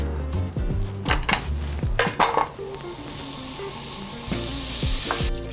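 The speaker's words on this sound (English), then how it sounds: "While my butter's melting" Butter melting and sizzling in a hot pot as the start of a cheese sauce, with a steady crackling fry under clanking metal pot and utensil knocks, close and fairly loud.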